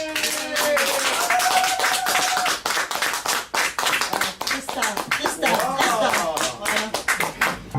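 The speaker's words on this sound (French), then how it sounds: "Bravo, on applaudit." Audience clapping at a televised stage show, rhythmic hand claps in sharp repeated bursts mixed with singing and voices over the top, fairly loud and close.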